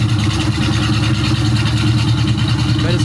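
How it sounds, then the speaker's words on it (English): A 1971 Pontiac Firebird with a rough, rich-running engine idling cold, a loud steady low rumble close to the microphone with no talking. "It's been sitting here idling for a handful of minutes now."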